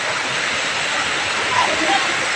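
Heavy rainwater rushing into a house during a downpour, a loud, steady broadband wash of flowing water with no break.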